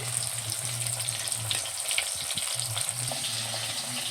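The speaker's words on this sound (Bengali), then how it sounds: "ইলিশ মাছ ভাজা হচ্ছে" Hilsa fish fries in a pan at home, a steady close sizzle with soft crackles, with a low hum and faint watery clinks in the background.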